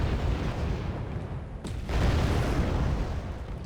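Heavy artillery fires in the real-time strategy game Wargame Red Dragon, a continuous low, rumbling barrage of booms that stays loud throughout, with a couple of sharper bursts.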